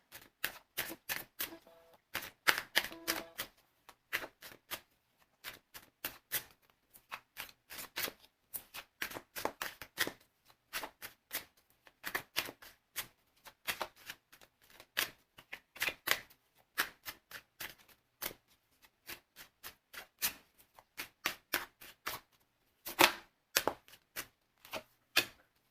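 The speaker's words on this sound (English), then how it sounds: "So I'm just gonna shuffle the cards for is Wonho going to come back to the group." Tarot cards are shuffled by hand in long runs of crisp, rapid riffling clicks and taps, close up and fairly loud, with short pauses between bursts and no talking.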